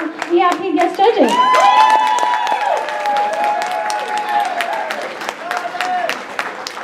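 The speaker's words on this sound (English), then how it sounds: "let's get one more round of applause for our VIP guest judges." A convention crowd claps steadily for the VIP guest judges at a cosplay contest, dense sustained applause with cheers and a few loud whoops layered on top.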